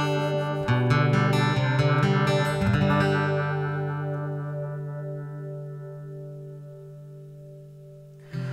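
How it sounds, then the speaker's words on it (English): An acoustic guitar played through a modulation effects pedal: a few quick strummed chords, then a long ringing chord with a wavering, swirling shimmer as it fades, and a fresh strum starting at the very end. "that's a different type of modulation effect that can just add another little bit of character"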